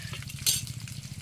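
Flat broad beans sputter in hot oil during tempering, a brief close sizzle with a quick stir and a light utensil scrape against the pan midway.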